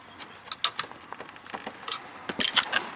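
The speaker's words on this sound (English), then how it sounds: "So take a screwdriver, open it up a little bit. And then you start hearing them pop." Plastic retaining clips on a 2006–2010 Chevrolet Cobalt door panel popping loose as a screwdriver pries the panel away, a scattered series of sharp snaps and clicks with small rattles, close and fairly quiet, no talking.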